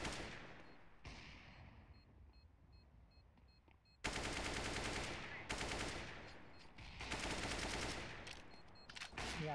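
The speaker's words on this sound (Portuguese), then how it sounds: "Dá um tiro aí, TJ" Loud, sustained automatic gunfire in the video game CS:GO, dense bursts that start and stop abruptly and sit close and heavy over the game's ambient noise.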